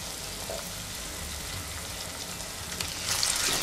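Finely chopped tomato sautéing in a pan with onion and bay leaf for chana masala, a continuous close frying sizzle that swells louder near the end, with no voices.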